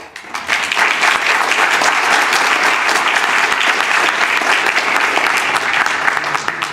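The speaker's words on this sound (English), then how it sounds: "This council deserves applause for their accomplishment in the last 2 years" Loud, sustained applause fills a city council regular meeting, many hands clapping densely and steadily from just after the start to the end, with a few sharper claps standing out.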